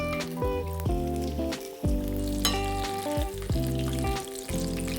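Thin tilapia fillets sizzle and crackle steadily in a hot pan just after being flipped, a close, continuous fry with bright spattering pops throughout.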